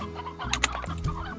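A stony hen in Slime Rancher clucks in a few short, close bursts, clear and alone with no voices.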